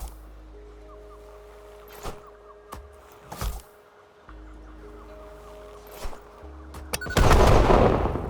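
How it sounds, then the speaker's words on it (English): Video game explosions and gunfire-like bursts pop repeatedly over a steady electronic hum, ending in a loud, roaring blast. "that's still cool to have the explosions happening"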